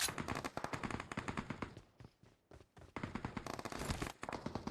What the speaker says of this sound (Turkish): Bunlar birbirlerini vuruyorlar apa.